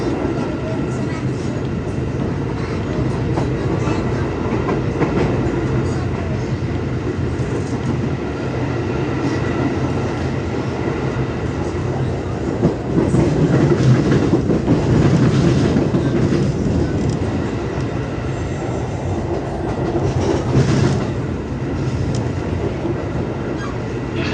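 A KRL commuter train rides out from Jatinegara station, heard from inside as a steady, loud rumble with rhythmic clickety-clack of wheels on the rails that continues throughout.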